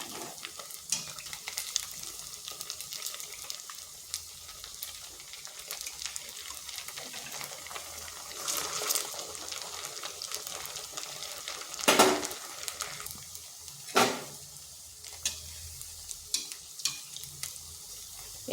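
Oil-sprinkled semolina pieces frying in a pan give a soft, steady sizzle. A spatula now and then scrapes and clinks against the metal, and there is no talk.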